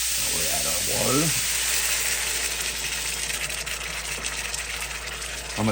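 Water poured into a hot pan of frying lamb for rogan josh, a brief gushing splash over a loud steady sizzle and hiss that carries on afterward.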